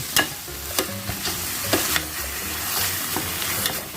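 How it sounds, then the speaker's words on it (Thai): Meat stir-frying with gochujang in a pan for a Korean noodle hot pot, a close sizzle with repeated sharp spatula scrapes and clacks in an irregular stirring rhythm, no speech. "พี่ปูก็ ผัดกับ โคชูจังเลย"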